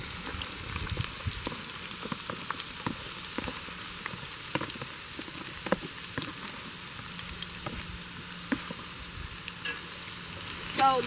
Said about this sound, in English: So they are actually frying up really well.